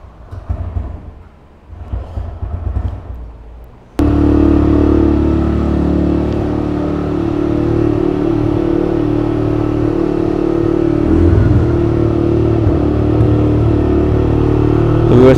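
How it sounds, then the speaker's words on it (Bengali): A TVS Raider 125 motorcycle engine fires up after a few seconds of quieter sounds, then runs loud and close with a steady, deep mechanical drone and slight shifts in pitch. "এটা হচ্ছে রেডার 125 এর সাউন্ড,"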